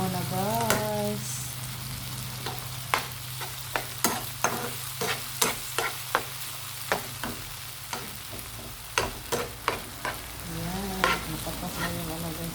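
Tomatoes and dried fish frying in a pan, a steady sizzle broken by a run of sharp, evenly spaced clicks and scrapes of a spoon stirring against the pan, close and fairly loud, with no talk.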